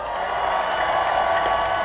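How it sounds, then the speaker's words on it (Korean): A crowd at a public gathering gives encouraging applause for council members, a dense, steady wash of clapping throughout, loud and close, with no voices standing out. "유능하고 충직한 우리 5분 의원님들 지금보다 훨씬 더 잘하라고 격려 박수 부탁드립니다"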